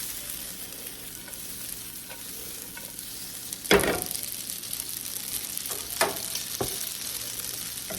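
Pasta and vegetables sizzle steadily in a hot pan, a continuous crackling hiss with a few brief louder scrapes and stirs, no talking.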